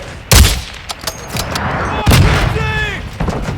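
Sniper fire in Call of Duty Warzone 2.0 DMZ: two loud, close booming shots about two seconds apart, each trailing into echo, with tonal game effects in between.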